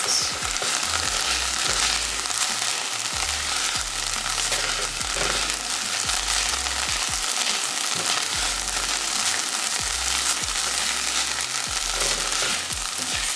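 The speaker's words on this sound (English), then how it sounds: "Onion and garlic getting nice and caramelized." Onion and garlic sautéing in a pan without oil for tomato soup, a steady close sizzle and crackle running throughout, with occasional low thumps and stirring scrapes underneath.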